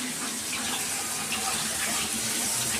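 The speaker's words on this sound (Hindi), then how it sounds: "गोभी धो रही हूँ।" Tap water runs in a steady, close hiss over cauliflower being washed in a home kitchen, with no pauses and no talk over it.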